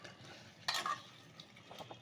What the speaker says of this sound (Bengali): আবার একটু নাড়িয়ে দিচ্ছি।